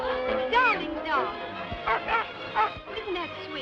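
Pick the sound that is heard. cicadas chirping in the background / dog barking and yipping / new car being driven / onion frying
dog barking and yipping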